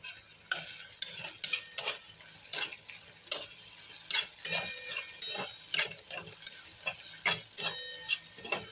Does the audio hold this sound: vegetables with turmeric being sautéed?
yes